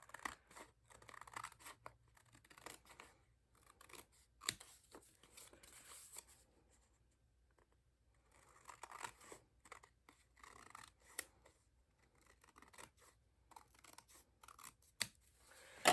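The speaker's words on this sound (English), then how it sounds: "I just use my scissor to trim those off" Small scissors snip the paper flaps off a Stamperia Welcome Home mini album, quiet close crisp cuts in short irregular bursts separated by pauses.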